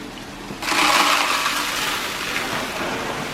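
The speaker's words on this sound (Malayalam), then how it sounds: "നമ്മൾ വെള്ളം ഒഴിക്കുകയാണ്." A bucket of water is poured over dusty aquarium stones, starting abruptly as a loud rushing, splashing wash that continues steadily and close, gradually easing slightly in strength.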